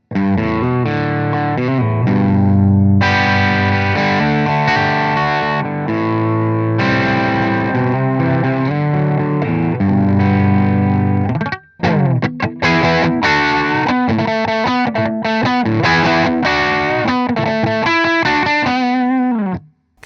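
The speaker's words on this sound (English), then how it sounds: "a controlled fuzz pedal with lots and lots of clarity" Overdriven fuzz electric guitar, through a G-Lab Rebel Series Chaos Overdrive pedal, plays dense, saturated chords and riffs continuously at high volume, with a brief dropout before the playing resumes.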